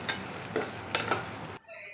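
Mustard seeds, cumin, chana dal and urad dal fry with cashews in hot oil for tempering, making a continuous close sizzle with small crackling pops that stops abruptly near the end.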